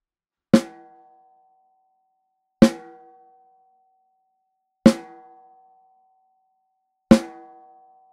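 Snare drum struck four times at even intervals, each a sharp crack with a short ringing decay and a sustained tonal overtone, heard after retuning the batter and snare-side heads, with little snare-wire buzz.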